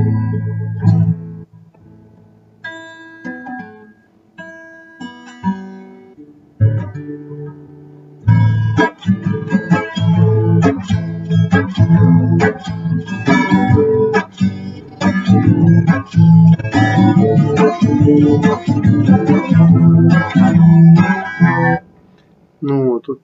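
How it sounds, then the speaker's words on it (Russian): Acoustic guitar strummed aimlessly with no melody or song, a player one year and three months into learning, starting with sparse separate chords, then after a pause a dense, loud, continuous strumming that runs to the end. "без мелодии, без песни, просто если бренчать, то вот такая хрень получается"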